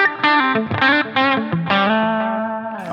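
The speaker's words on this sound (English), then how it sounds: "I was really liking that tone once I added the Rat distortion pedal in" An electric guitar plays a short riff through a Rat-style distortion on a Line 6 Helix, notes sustaining thick and buzzy, loud and close with no voices.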